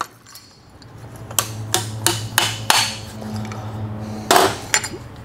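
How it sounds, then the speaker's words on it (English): Bushing being hammered into a WP 6500 motorcycle fork tube: a series of sharp metallic taps, about half a dozen spaced irregularly over a few seconds, close and moderately loud over a low steady hum. "Drive the bushing into place,"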